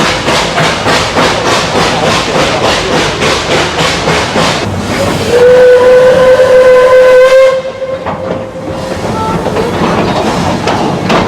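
The Puffing Billy heritage steam train on Australia's historic railway chuffs in rapid rhythmic puffs, then gives a long, loud whistle blast with hissing steam. The puffing returns as the whistle fades, close and powerful.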